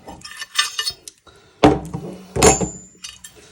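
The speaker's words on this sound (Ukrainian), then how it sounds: "Ось я, наприклад, буду бити, трішки постукувати отут, щоб вона зійшла." Metal knocks against a metal part of an SC-12 during disassembly: a few sharp, ringing taps and clinks, then two louder strikes spaced about a second apart, close and clear with no talk.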